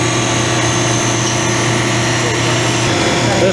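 A wood lathe or drill working a glued-up piece of walnut runs as a steady, loud machine hum with a high whine, continuous throughout without pause.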